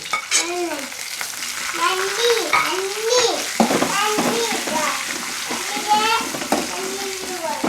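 Ginger and green chili sautéing in a hot pan for lemon pickle, with steady frying sizzle and stirring running throughout while someone talks over it close by.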